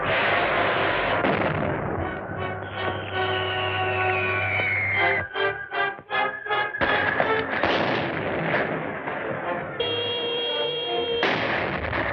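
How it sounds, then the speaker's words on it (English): Explosions and heavy bombardment rumble in a 1936 undersea-kingdom science fiction serial, with loud sustained booms and bursts. A sharp cluster of blasts hits in the middle, over dramatic orchestral music. "Bombing the temple."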